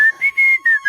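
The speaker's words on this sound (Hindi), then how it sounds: "मेरी सिट्टी पिट्टू घूम करके सीटी मार रहा है" A person whistles a quick, bright tune of five or six short, clear notes in steady rhythm, loud and close, with no talking.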